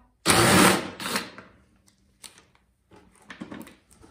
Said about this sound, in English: there's 2 10mm bolts that hold this cover on. Just take both of them off